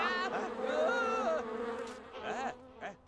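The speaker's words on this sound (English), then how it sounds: "now he's being chased by bees." A swarm of bees chases a character in The Sims 2 video game, giving a loud, close, wavering buzz that swells and wobbles in pitch before tapering off.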